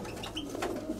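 Pigeons in Santorini, a soft low cooing heard briefly over a hazy outdoor background.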